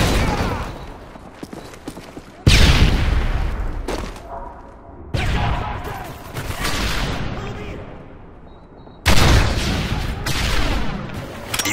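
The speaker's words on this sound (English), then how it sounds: "We'll take these dual machine guns." Dual machine guns fire in a Call of Duty Modern Warfare 3 online match, with loud bursts of gunfire and booming explosions that break off and resume several times, alone with no talking over them.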